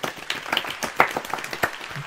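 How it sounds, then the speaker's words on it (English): Brief, polite applause from a small gathering, made of scattered individual claps with a few sharper hits, lasting only a couple of seconds. "there's a polite round of applause"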